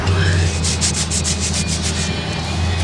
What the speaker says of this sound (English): We're going to fair these spots that we fiberglassed.